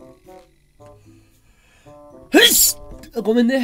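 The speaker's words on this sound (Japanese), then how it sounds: "思いっきりマイクに向かってくしゃみしちゃった" A single loud, sudden sneeze goes straight into a microphone, bursting out between stretches of casual speech and soft background tones.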